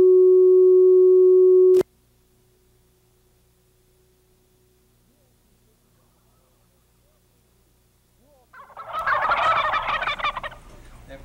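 A turkey gobbles in a loud, rattling burst near the end of the clip, after a steady electronic test tone and a long stretch of near silence.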